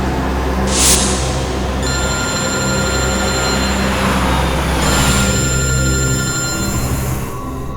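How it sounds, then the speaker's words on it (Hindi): Telephone ringing in a tense police-drama interior scene, a steady electronic ring with repeating high tones running continuously over a low rumbling background for several seconds. "एसीपी साहब का फोन?"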